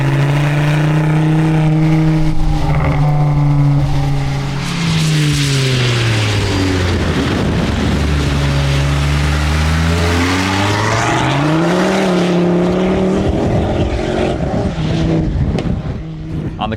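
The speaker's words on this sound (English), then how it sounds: "the MK2 STs with the amazing 5-pot engine" A Ford Focus ST MK2 five-cylinder engine revs loudly and close by, pitch climbing, falling away and rising again in long sweeping throttle blips over a steady idle rumble, with no talking.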